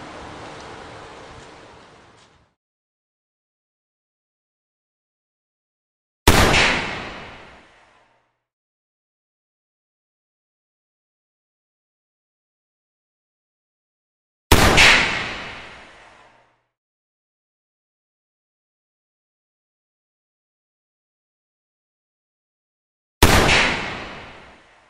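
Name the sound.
AirForce Condor air rifle firing pellets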